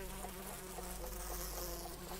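A fly buzzes steadily and faintly throughout, a continuous droning hum heard close by in an audiobook of a story about a fly, with no talk over it.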